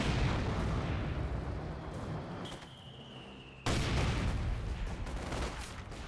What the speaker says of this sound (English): Now got another zeroing artillery, just retreat on back